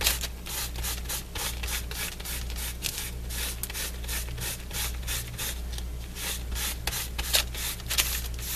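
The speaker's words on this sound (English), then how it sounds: "So let's clean the other side of my stencil." A craft stencil is wiped clean after Gelli printing, with rapid repeated rubbing and scrubbing strokes heard close up in a steady back-and-forth rhythm, with no talking.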